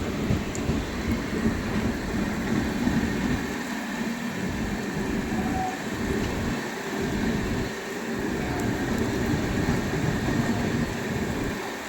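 A special train out of Anand Vihar Terminal rolls along the rails in heavy rain, a steady broadband rumble with faint rhythmic dips in the low end, continuous and moderately loud without voices.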